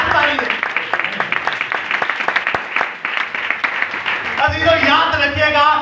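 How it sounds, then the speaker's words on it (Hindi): Applause from a church congregation at an Easter resurrection service, a dense patter of clapping that is loud and sustained, then gives way to a voice speaking over the hall. "जोरदार ताली है।"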